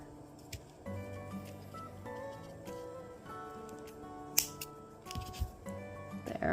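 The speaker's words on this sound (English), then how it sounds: "you're going to just cut a little bit of the fabric" Scissors cutting fabric for a homemade vampire cape, with faint, close snips and rustling cloth over soft background music.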